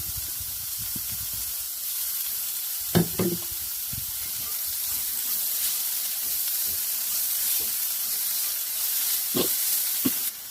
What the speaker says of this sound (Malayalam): നമ്മൾ ഒരു വലിയ സവാളയാണ് ഇവിടെ ചോപ്പ് ചെയ്ത് വെച്ചിട്ടുള്ളത് അതുകൂടെ ചേർക്കാം